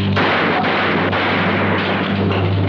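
A handgun fired in a 1976 American action film, a single loud, close blast followed by a dense booming roar that fills the whole short moment, with no speech over it.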